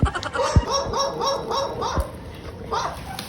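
A dog barks several times in a short rhythmic series at moderate distance, with a person speaking nearby and faint laughter-like sounds around it.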